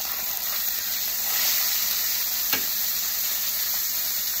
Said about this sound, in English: Let's flip this over and see.